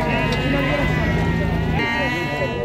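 Lambs bleat at a livestock market in Beylagan, Azerbaijan, with repeated wavering cries rising over a busy background of crowd voices.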